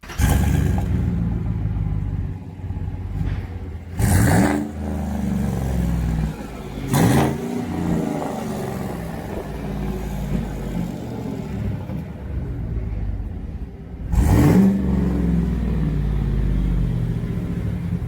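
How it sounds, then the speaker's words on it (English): A truck fitted with unequal-length exhaust headers revs in several sharp bursts. A loud rumbling, uneven burble sits between them and carries on throughout at close range, with no voices. "any truck with non-equal length exhausts or headers or whatever you want to call it"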